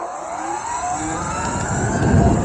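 A Surron electric dirt bike accelerates from a start, with a faint motor whine rising steadily in pitch over a continuous, fairly loud wind and road roar that swells toward the end.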